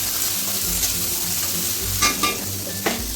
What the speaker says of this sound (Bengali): আলু দিয়ে আমরা এই তেলে আগে ভেজে উঠে রাখবো।